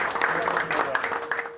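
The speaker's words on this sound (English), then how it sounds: "there was a spontaneous round of applause when the separation finally occurred" Spontaneous applause breaks out in a hospital operating room after a surgical separation: a soft, scattered patter of clapping from a small group, heard under a speaking voice.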